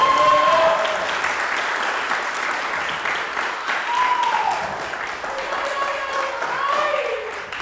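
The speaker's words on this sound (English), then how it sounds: "Can we give a round of applause for Ryan Tomita of Middle Finger Mantras?" A room audience applauds Ryan Tomita of Middle Finger Mantras with a dense, steady round of clapping, loudest at the start and holding evenly, while a voice briefly speaks over it at moments.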